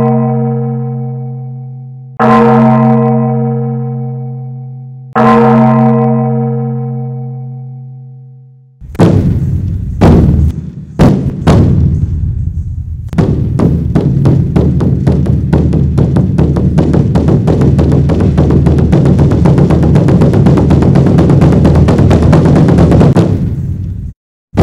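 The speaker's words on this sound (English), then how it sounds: "The sound of bells chiming and beating drums announced the start of the" Three deep, resonant bell strikes ring out and decay slowly, then rapid heavy drumming starts and continues loudly and steadily, opening an evening Indian peace prayer ceremony.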